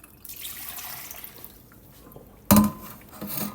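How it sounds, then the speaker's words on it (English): Water splashes and pours steadily through a Zero Water five-stage filter pitcher, with a sudden louder gush partway through and a faint liquid rush before it. "watch how fast it just pours through the filter."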